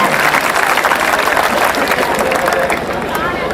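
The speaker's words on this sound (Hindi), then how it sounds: "एक बार जोरदार तालियां बजाएं" A crowd at a Hindi comedy poetry show applauds loudly, a thick, continuous wash of clapping that stays strong throughout the brief span.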